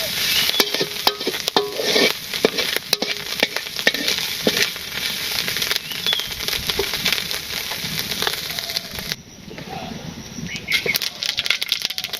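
Shrimp frying in a pan over a village cooking fire, a steady broadband sizzle with scattered crackles and occasional utensil scrapes that briefly thins out near the end before picking back up.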